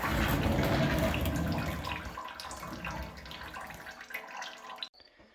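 Old transmission fluid pours out of a 1940 Ford pickup in a steady stream that gradually thins to trickles and drips before it stops, close up, with no talk.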